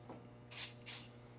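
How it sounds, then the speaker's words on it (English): Two short bursts of silicone-based lubricant sprayed onto an elliptical exercise machine during maintenance, each a close hiss of about a third of a second over a steady low hum. "then we're just going to spray it a little bit with silicone-based lubrication"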